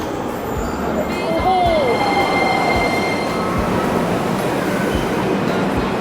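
Subway train in a Bulgarian metro station, a loud rumbling roar of wagons with rhythmic wheel clacks and a brief squeal of wheels on rails, heard close and steady throughout.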